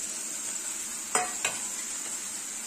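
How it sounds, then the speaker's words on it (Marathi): Paneer fried rice with soy sauce, chili sauce, salt, garam masala and chili powder is stir-fried in a pan, a steady close sizzle with two brief scraping stir strokes and no voices. "हे सर्व व्यवस्थित मिक्स करून घ्यायचं"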